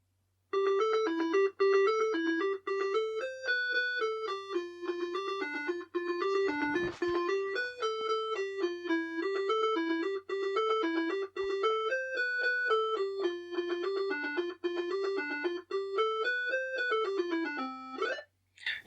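Beeping square-wave melody from the Chuckie Egg game on a Tatung Einstein TC-01, played through the computer's large built-in front speaker, runs continuously and fairly loud with a brief rustle partway through.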